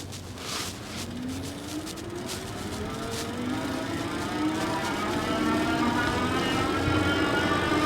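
NIU BQi-C3 Pro electric bike accelerating uphill on throttle alone, a faint motor whine rising steadily in pitch under constant wind rush, with no talking.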